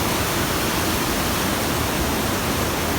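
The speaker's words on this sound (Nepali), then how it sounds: "झरना खोला" Constant, dense rushing of a waterfall and stream on a monsoon trek in Sindhupalchowk fills the clip, loud and even throughout with no other sounds.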